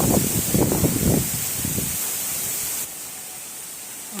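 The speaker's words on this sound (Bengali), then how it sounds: "গুড়ি গুড়ি বৃষ্টি হচ্ছে সাথে কিন্তু বাতাস বইছে বেশ সজোরে বাতাস বইছে" Wind blows hard with light drizzle at dusk in Gazipur ahead of cyclone Remal, a broad steady hiss with a few louder gusts early on that then settle into an even wash.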